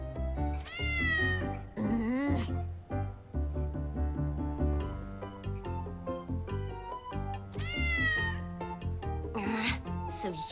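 Cats meowing repeatedly in the Shadowverse card game, high drawn-out mews standing out over a steady game music bed, with several louder meows near the start and end.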